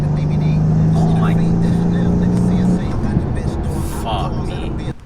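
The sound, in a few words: Mercedes-AMG rear-wheel drive V8 car driving in rain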